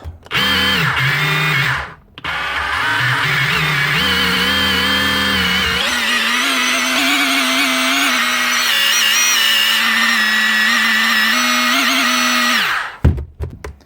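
A Hilti TE30 A36 cordless drill with a faulty trigger that won't press in fully whirs steadily and loudly at close range, briefly cutting out near the start before spinning on again and stopping at the end.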